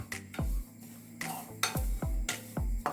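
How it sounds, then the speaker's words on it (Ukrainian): Sesame seeds being stirred in a frying pan over low heat, giving repeated scraping strokes with a soft sizzle and light metallic clinks, close and alone without talk. "підсмажую декілька столових ложок насіння кунжуту на сковорідці на легенькому вогні"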